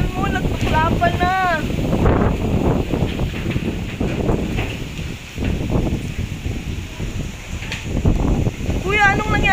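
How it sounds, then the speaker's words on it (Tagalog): Strong typhoon wind from Typhoon Ulysses roars and buffets the microphone in Central Luzon, a loud continuous gusting rush with people talking close over it. "Hala, grabe, ang lakas ng hangin."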